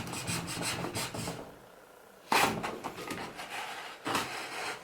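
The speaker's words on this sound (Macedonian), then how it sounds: "Ете го имам ова ливче и ќе пробаме да сечиме." A knife, called a Turkish sabre, cuts through a sheet of paper in a room, making close rasping strokes in rapid bursts, then a brief lull before a louder scraping cut and another burst.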